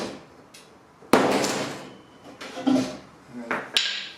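A hammer delivers several sharp whacks to a car body panel, single metallic impacts spaced irregularly with quieter handling noise between them.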